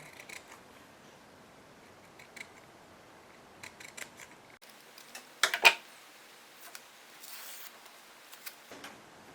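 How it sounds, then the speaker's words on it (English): Scissors snip fringe into leather for the bottom of a homemade crossbow quiver, a few quiet close cuts and clicks, with one sharper cluster of snips near the middle. "Cutting fringe for the bottom."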